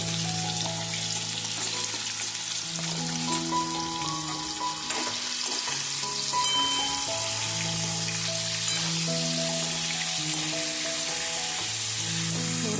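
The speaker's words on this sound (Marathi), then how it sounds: "आपल्याला तुपात परतून घ्यायचे आहे" Steady sizzling of sweet potato slices frying in ghee, continuous and close, with faint stirring and tonal hum running through it.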